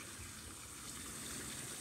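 Water flows through a rice field in a steady, faint rushing wash with no break, heard from a short distance.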